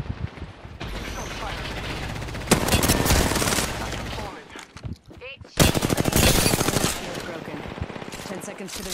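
Rapid automatic gunfire in an Apex Legends battle royale match, loud sustained bursts that pause briefly and then resume in a second heavy volley, with a player's voice faintly mixed in.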